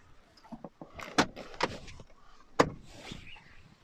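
The centre rear seat of a BMW 220d Gran Tourer being folded: a few soft clicks and thuds of seat mechanisms and fabric handling, close by and fairly quiet, with sharper knocks near the middle and end.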